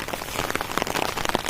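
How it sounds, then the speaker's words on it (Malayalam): Rain falls steadily during a rainy evening near water where people fish, a dense patter of drops striking surfaces close by with no voices. "അപ്പോഴേക്കും മഴയൊക്കെ ആയി"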